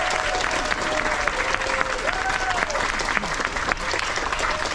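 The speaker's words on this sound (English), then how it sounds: "please give her the biggest round of applause" An audience claps loudly and continuously to welcome a guest, a dense wash of applause from a sizeable crowd with a few whoops and cheers rising above it.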